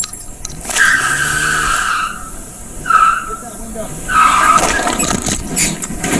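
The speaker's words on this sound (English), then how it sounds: "put the truck in drive, squealing the tires and hitting the front of the store" A truck's tires squeal as it pulls away outside a store, long high-pitched screeches in several separate bursts over engine and road noise, with people talking throughout.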